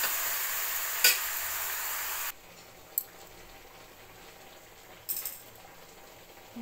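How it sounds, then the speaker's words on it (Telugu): Chicken curry fries in a pan with a loud, steady sizzle that drops sharply quieter partway through, broken by a few clinks of a utensil stirring against the pan. "బాగా ఫ్రై కావాలండి, కొంచెం నీరు ఇంకిపోయే వరకు ఫ్రై చేయాలి."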